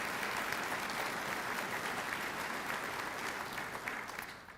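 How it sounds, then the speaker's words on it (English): At an Air Force change of command ceremony, a crowd applauds after the national anthem with even, sustained clapping from many people that sounds somewhat distant and soft and tapers slightly at the end. "How about a round of applause for Miss Elmore?"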